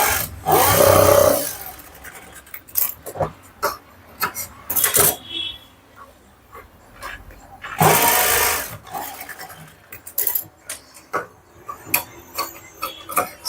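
A sewing machine stitches a blouse in short, loud mechanical bursts separated by pauses and quieter handling sounds, heard up close.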